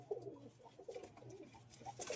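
Pigeons coo softly in low, rounded repeated calls, faint and close, with light rustling in the background.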